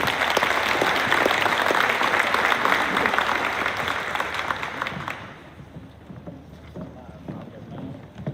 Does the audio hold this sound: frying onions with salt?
no